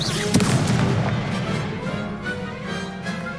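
Spell blasts crack and boom in a Hogwarts Legacy duel, a dense run of loud explosive hits early on that settles into a rumbling, crackling tail.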